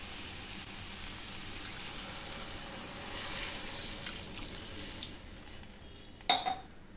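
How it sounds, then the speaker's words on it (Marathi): Water poured into a pan of elephant yam that was fried in oil: a quiet, steady watery hiss that swells in the middle, then a short, sharp clatter of the pan near the end. "आता यामध्ये आपल्याला पाणी घालायचं आहे"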